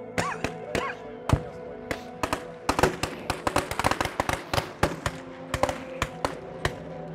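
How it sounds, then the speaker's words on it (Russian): Staged battle at Seliger with blank gunfire and grenade launchers fired at an armored vehicle, a rapid irregular crackle of sharp bangs, some close and loud, others distant, with a faint voice and ringing tones underneath. "Бандиты пытаются стрелять в нашу бронемашину из гранатометов."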